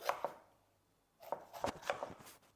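Vegetables such as red peppers being cut with a knife for lamb kleftiko: a pair of quiet chops, a pause, then a quick run of soft knife strikes against a board, close and faint.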